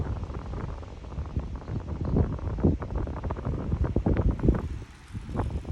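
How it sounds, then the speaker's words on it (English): Gusty wind buffeting the microphone in uneven rumbling bursts during a trail bike ride, loud and close, with a brief lull near the end. "It is so windy right now"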